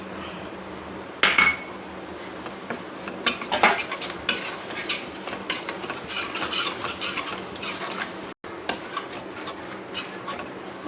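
Ginger-garlic paste goes into onion paste frying in a pan, with a spoon clinking and scraping against the metal in irregular bursts over a low, steady sizzle.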